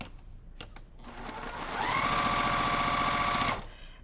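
A sewing machine stitches a straight quarter-inch quilt seam in one steady, close run of about two seconds, following a few soft clicks as the fabric is set in place.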